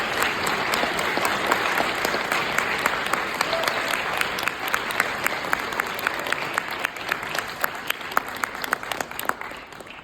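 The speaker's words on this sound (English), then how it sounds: "So please give us a round of applause and join Sami." Middle school assembly audience claps in a sustained round, many hands forming a thick wash with sharper individual claps poking through, steady throughout the ten seconds.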